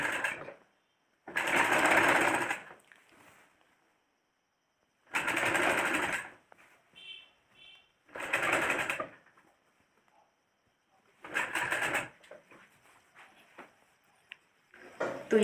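Sewing machine stitching a folded kurta neckband, running in four separate bursts of about a second or two each, close and fairly loud, with quiet handling sounds between them.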